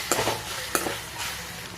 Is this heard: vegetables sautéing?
yes